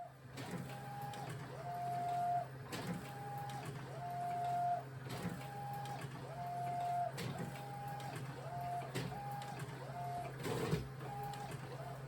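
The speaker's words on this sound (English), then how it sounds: "Once it's done printing" An Epson T3170x inkjet printer prints a film strip, its print head shuttling back and forth in a regular rhythm of whirring passes with repeated rising and falling motor tones over a low steady hum, fairly faint and close.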